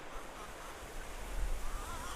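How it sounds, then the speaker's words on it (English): Distant flow of the Ottawa River blended with wind, a soft, steady broadband wash with a slight swell toward the end and no voices. "Do you hear the Ottawa River in the distance?"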